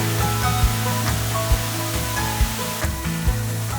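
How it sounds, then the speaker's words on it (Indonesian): Steady broadband rush of a powerful waterfall with children playing in its spray, a loud continuous roar with faint splashes and low rumbling throughout. "air terjun itu kenceng banget"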